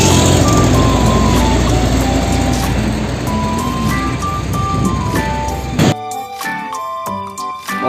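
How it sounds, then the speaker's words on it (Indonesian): Concrete mixer truck with a loud, close run of repeated reversing beeps over engine noise, ending abruptly with scattered clatter. "Mobil truk molen."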